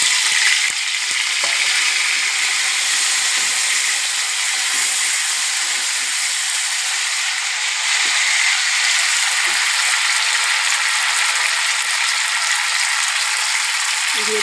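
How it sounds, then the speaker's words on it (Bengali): Potato, raw banana and green chilli frying in oil with cumin seeds, a loud, dense, steady sizzle that holds without letup from start to finish. "একটু ভেজে নেব"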